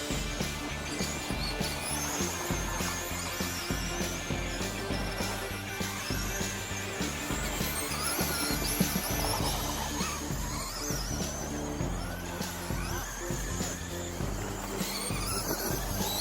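A Traxxas RC oval car with a BL2S brushless system runs steadily for the whole stretch, a dense buzzing motor and rolling whine with no pauses, heard fairly close and alone.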